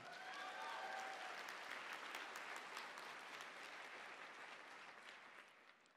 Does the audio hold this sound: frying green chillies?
no